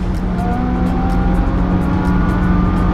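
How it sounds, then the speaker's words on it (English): A 2016 Lamborghini Huracan supercar runs loudly alongside on an Irish road trip, a steady engine drone with rising tonal whine and road roar, close by and without talk. "We've got a Lamborghini Huracan coming up beside us."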